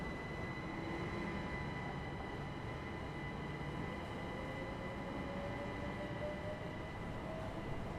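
A locomotive in Train Sim World 5 rumbles steadily for the whole stretch, a dense continuous drone with faint whining tones drifting above it.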